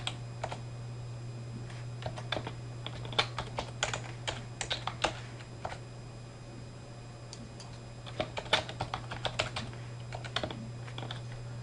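A password is typed on a computer keyboard in quick irregular bursts of close key clicks, pausing in the middle, over a constant low hum.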